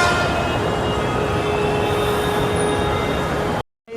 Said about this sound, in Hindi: ये है मेट्रो जयपुर।